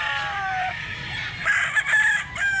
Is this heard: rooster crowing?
yes